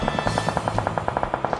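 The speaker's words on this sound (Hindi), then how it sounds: "ये लोग तो गोलियां चलानी रोक ही नहीं रहे।" Rapid bursts of automatic gunfire in the mobile battle royale game BGMI (Battlegrounds Mobile India), with close, evenly spaced shots firing continuously over a low in-game rumble, with no talking.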